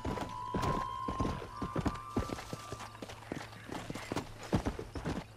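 Horse hooves clip-clop in a steady walking rhythm in the video game Red Dead Redemption, close and clear with a faint tone and low hum underneath.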